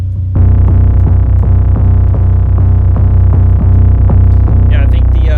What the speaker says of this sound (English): Let's try a hard distortion on this.